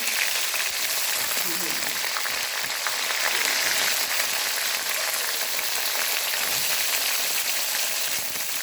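Mustard seeds, chilli and bay leaf fry in oil for a tempering in a Bengali shukto, making a steady close sizzle with light crackling and spattering throughout, while someone talks faintly over it.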